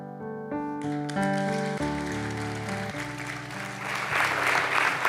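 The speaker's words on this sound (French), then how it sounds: "Merci de l'applaudir" An audience applauds a world champion slam poet after her performance. Bright sustained musical tones ring out first, then the clapping swells and grows louder toward the end.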